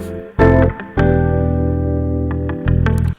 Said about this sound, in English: it has a lot of harmonic distortion in it, but it's more or less aggressive, but it's still musical